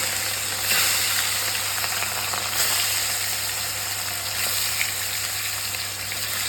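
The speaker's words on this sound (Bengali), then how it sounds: "তো দেখুন জিরে দিয়ে দিয়েছি, মাছগুলো দিয়ে দিচ্ছি" Fish frying in hot oil with cumin seeds, giving a steady, close, loud sizzle with a constant low hum underneath and no talking.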